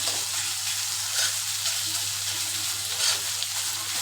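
Hand-shredded chicken meat fries in a pan for a spicy dry fry, giving a steady broadband sizzle with a few faint stirring scrapes, close and even throughout with no voice.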